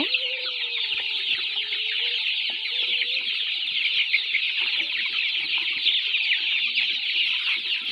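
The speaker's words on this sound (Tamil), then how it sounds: "இது எல்லாம் சுத்தமான நாட்டுக்கோழி குஞ்சுங்க." Native country chicken chicks feed close by, their soft cheeps and clucks running continuously over a steady high-pitched chorus of peeping, with no talking.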